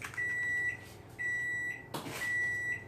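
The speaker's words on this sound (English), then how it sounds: "My oven has preheated." A kitchen oven beeps to signal it has finished preheating, three steady, sustained electronic tones repeating at an even pace, fairly loud and close, with no talking.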